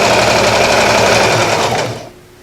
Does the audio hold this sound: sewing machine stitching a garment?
yes